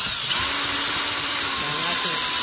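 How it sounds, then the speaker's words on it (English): A power drill runs continuously, a loud high-pitched whine driving screws into an electrical outlet box, steady throughout with slight pitch shifts as it bites. "You can use the drill for this too."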